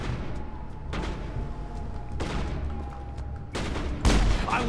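Gunfire sounds from the video game Mass Effect come in a few sharp bursts over a steady combat background, separated by short gaps, with a louder boom near the end.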